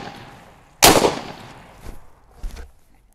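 Typhoon Defense XII shotgun firing buckshot: one loud, sharp blast close by, then a couple of softer mechanical clacks and thumps as the action cycles.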